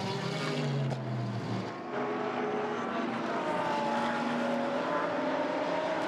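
Mercedes-AMG GT race car lapping the Zhuhai circuit in GT Asia Series racing, a loud engine roar passing with shifting, rising and falling pitch, joined by other engine tones as the car streaks by.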